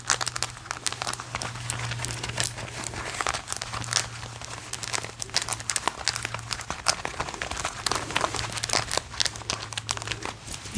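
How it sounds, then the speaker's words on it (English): Clothes scratching for ASMR, close rustling and scraping of fabric in quick irregular strokes, with a faint low steady hum underneath and no voices. "Maybe some clothes scratching."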